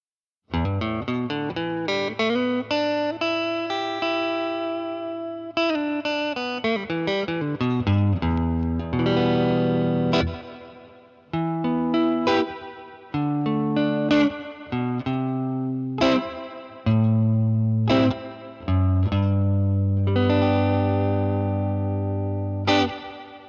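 Electric guitar played through a Purdy Tube Amps reverb pedal into a tweed amplifier, a long sequence of ringing chords and single notes with lush spring-style reverb tails, close and loud with no talk.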